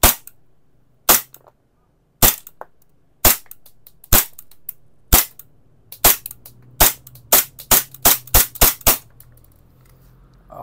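An airsoft gun fires single shots in semi-auto mode, a dozen or more sharp cracks, spaced about a second apart at first and then coming quicker, with no talk.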